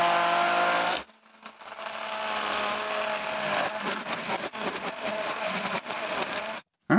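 An immersion blender whirs steadily as it mixes black ceramic glaze made with Mason stain, a loud close motor drone that starts after a short pause and cuts out briefly near the end.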